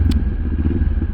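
Motorcycle fitted with an EXAN X-Cape full exhaust system on an ADV-R adventure build, a steady low engine rumble with light mechanical clatter, close and moderately loud throughout a brief moment.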